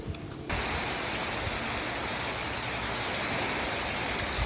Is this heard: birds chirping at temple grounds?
no